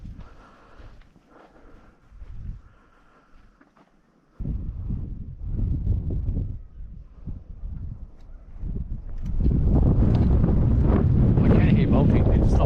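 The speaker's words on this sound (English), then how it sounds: "It's a bit windy now too." Wind buffeting the microphone outdoors during a ferreting outing, gusty rumbling that is faint at first and turns heavy and loud from about four seconds on, with voices talking underneath.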